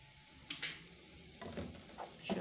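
A pepper stuffing with a little water and ground bell pepper is stirred in a pan, giving soft scraping strokes over a faint, steady sizzle, with a few brief louder scrapes.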